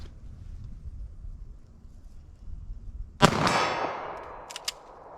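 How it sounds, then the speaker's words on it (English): .380 ACP pistol firing an Underwood hard cast round outdoors: one sharp, loud report with a ringing decay, followed by a second, quieter crack about a second later. "let me fire a few rounds of these hard cast here and see how these do"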